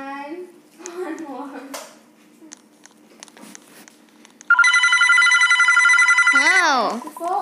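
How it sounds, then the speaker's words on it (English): An electronic telephone ringtone in a video game bursts in loudly and steadily with rapid warbling tones, following excited talk and game noises. "The phone! It's ringing!"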